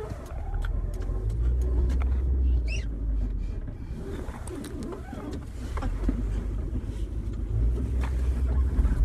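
A car rolls around a town block near the Asbury Park, New Jersey transit station and municipal complex, its steady low road rumble close and constant while pigeons coo and birds chirp faintly.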